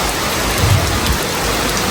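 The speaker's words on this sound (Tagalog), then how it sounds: "Napakalakas ang ulan." Heavy rain pours down in a dense, steady hiss, loud and close, with a faint low rumble underneath.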